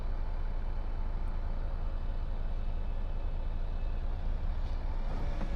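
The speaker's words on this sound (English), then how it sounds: "bus is making a weird noise, isn't it?" A bus on a motorway run along the M53 gives a continuous loud engine drone and rumble from inside the vehicle, with a faint hiss and an odd higher whine creeping in near the end.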